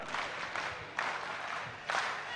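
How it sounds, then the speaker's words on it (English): Delegates at a national party conference clap in scattered, moderately distant applause, with periodic swells of claps rising out of a crowd murmur. "may we give our national chairman and the president a better round of applause"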